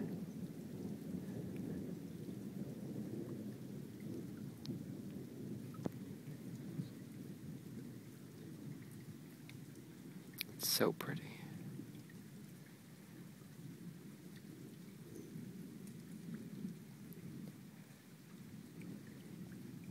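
Steady summer rain hisses down throughout a thunderstorm, with one sharp, close thunder crack about midway; a voice briefly murmurs over the downpour.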